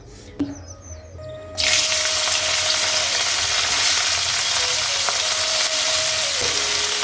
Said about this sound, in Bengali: এইটুকু তেলেই হয়ে যাবে আমার সবজিটা ভাজা